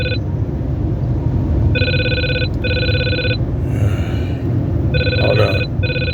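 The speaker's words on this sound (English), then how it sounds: "Let the phone stop ringing." A telephone rings in repeated bursts of a bright electronic trill with pauses between them, steady low background hum underneath.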